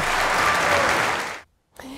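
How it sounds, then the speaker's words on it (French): Thunderous concert applause fills the hall, loud and dense, then drops to a sudden brief silence before clapping and a voice start up again. "Silence total suivi d'un tonnerre d'applaudissements."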